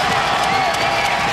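A loud basketball crowd at Heping Gymnasium during a TPBL playoff Game 4 between the Taoyuan Taiwan Beer Leopards and New Taipei Kings keeps up a steady roar of cheering and shouting.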